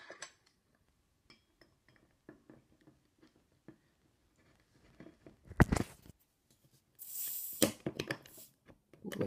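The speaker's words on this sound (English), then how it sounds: "let's open the bottle." A 16-year-old bottle of Coke is opened, starting with faint clinks and handling taps, then a loud hiss and fizzing rush of carbonation in two bursts, close by and with no talking.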